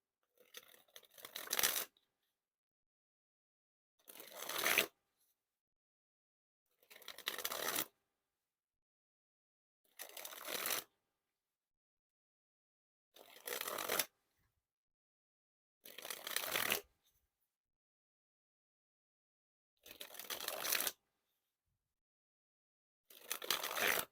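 A Coca-Cola deck of playing cards is dribbled from hand to hand about eight times, each one a quick fluttering riffle of card snaps lasting about a second, separated by quiet gaps, close and crisp.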